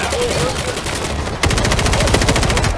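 Gunfire in the zombie shooter World War Z during a horde mode attack: steady noisy combat at first, then a burst of rapid, evenly spaced automatic shots, loud and close, with voices faintly mixed in.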